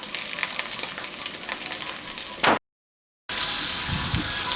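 Fish steak frying in lemon butter in a pan, a steady close sizzle with a brief burst, a short silent gap, then the sizzle resumes dense and even.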